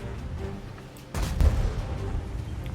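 A single heavy boom from a Ferdinand German tank destroyer's cannon in a video game, followed by a rumbling tail over low background noise.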